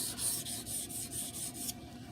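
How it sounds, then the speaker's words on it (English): A steel knife blade rubbed flat against a sharpening stone makes a steady, close rasping scrape in repeated back-and-forth strokes, about eight of them, then stops. "rubbing the flats on the stone"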